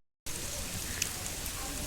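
Rain falling on the University of Peradeniya campus in Sri Lanka makes a steady, even hiss of drops that holds at one level throughout and has no talk over it.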